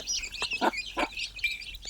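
Fifteen-to-twenty-day-old free-range desi chicks cheep in thin high bursts near a running hen that gives a few low clucks, close by and fairly faint.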